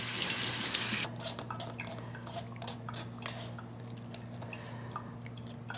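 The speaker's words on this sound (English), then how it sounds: "I'm gonna rinse my spoon." A spoon rinsed under a running kitchen tap after scooping apple vinegar, with a steady rush of water that drops slightly after a moment, plus light clinks and splashes close by.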